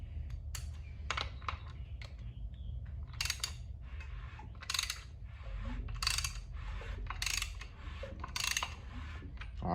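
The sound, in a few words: spinning an LS engine by its crank bolt with a ratchet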